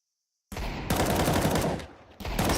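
Rapid gunfire from an AWP sniper rifle during a competitive Counter-Strike match, loud bursts of shots in quick succession with a short gap before a final volley.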